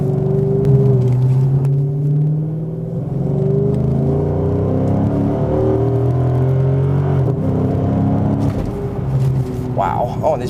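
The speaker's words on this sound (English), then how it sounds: "Man, I haven't driven a car with an engine like this in a little while" A 2013 Dodge Charger SRT8 engine in track mode pulls hard under acceleration, a loud, steady droning rumble that climbs in pitch through rapid gear shifts, heard from inside the car.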